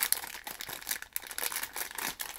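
Crinkly plastic rustling and crackling in quick irregular bursts, close by, as a packet holding a toy figure is handled and pulled open.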